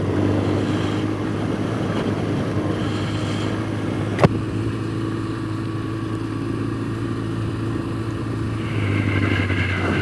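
A motorcycle on an off-road trail at a GS Trophy UK qualifier rides under a steady loud engine drone, with one sharp knock midway and the revs rising toward the end, no talk over it.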